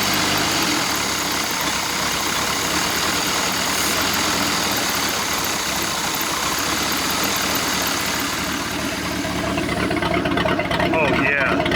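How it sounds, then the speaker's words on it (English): An inboard ski boat engine with a cammed motor idles steadily and loudly throughout, a continuous rumbling drone with uneven lopey chop, close up and alone without talking. "I do want it to let it get warmed up because I want to hear if it has chop because it's got a cam in it."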